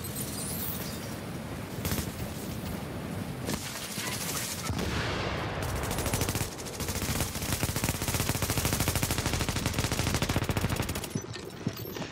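Video game gunfire in a 1v1 match rattles on almost continuously, dense rapid bursts of loud close shots with brief gaps and breaking-like crashes, with a voice occasionally underneath.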